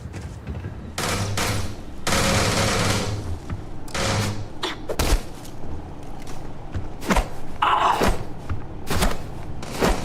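Gunfire in the space video game Starfield, with bursts and single shots, loud thuds and impacts in an uneven sequence over a steady background, close and loud.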